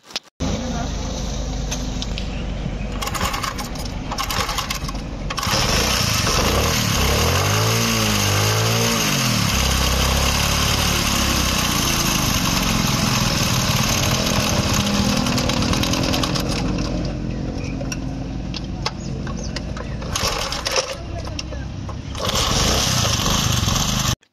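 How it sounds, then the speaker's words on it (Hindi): A small motorcycle engine, already warm, sputters and catches, then runs at a rough, loud idle with a few revs rising and falling; a voice talks briefly over it. "ये बाइक जो है ये अभी गर्म है तो इस वजह से स्टार्ट हो रही है।"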